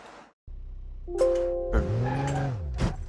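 A video game car engine revs and whines upward with rising harmonic tones, loud and steady over a low rumble, ending with a brief sharp burst.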